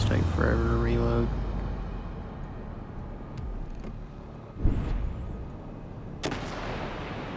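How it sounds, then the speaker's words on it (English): Battleship guns fire in World of Warships Legends, a booming salvo with engine and water rumble, followed by scattered distant impacts and fainter shots, while someone talks quietly. "And I'll take a shot at Fuso."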